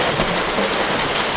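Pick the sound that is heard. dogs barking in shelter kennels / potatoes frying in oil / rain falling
rain falling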